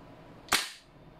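A single sharp airsoft gun shot fired through a chronograph during a velocity test, one loud close crack that cuts off quickly and leaves a brief quiet tail.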